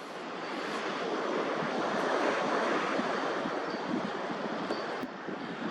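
Ocean waves at a coastal preserve, a continuous close roar of breaking surf with wind buffeting the microphone, steady and fairly loud with no voices.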